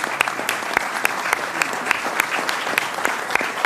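An audience at a panel event on apprenticeships claps steadily, with dense, sharp individual claps blending into sustained applause and faint murmuring under it.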